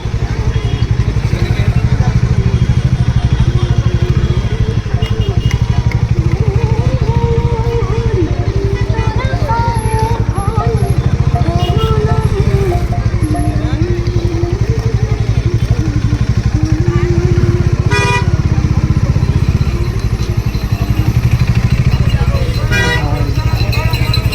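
Motorcycles idle and rev around a festival bike parking area at the Kolkata winter handicraft fair, with occasional horn toots. The engines stay loud and close under steady crowd chatter and nearby voices.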